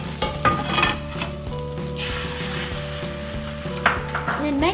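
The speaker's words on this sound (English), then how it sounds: "pour the egg onto a heated frying pan with butter" Steady frying sizzle of beaten egg poured into a hot pan with butter, continuous and fairly loud, with a few brief clinks or scrapes partway through and no talking.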